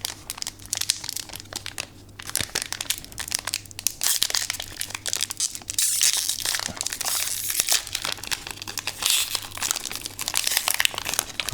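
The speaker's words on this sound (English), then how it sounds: "If you like crinkling noises." Plastic wrapping on a Grand Archive Phantom Memories trading card booster box crinkles and crackles close up, loud and continuous with dense irregular crunches and no talking.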